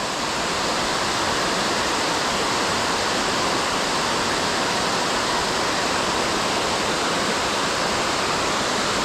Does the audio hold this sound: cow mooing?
no